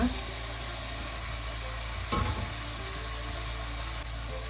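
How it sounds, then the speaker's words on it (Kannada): A packet of chopped mushrooms sizzles loudly in a hot pan and is stirred, giving a steady close frying hiss with a brief burst of scraping and clattering partway through. "ಇಲ್ಲಿ 1 ಪಾಕೆಟ್ ಮಶ್ರೂಮ್ನ ಕಟ್ ಮಾಡಿಟ್ಟಿದ್ದೆ, ಅದನ್ನು ಇದಕ್ಕೆ ಹಾಕೋಣ"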